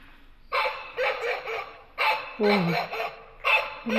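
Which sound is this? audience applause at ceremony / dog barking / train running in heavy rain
dog barking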